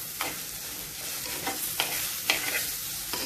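Beef roasting in ghee in a pan for a beef ghee roast: constant soft sizzle broken by several distinct scraping stirs of a utensil, close and unaccompanied by talk.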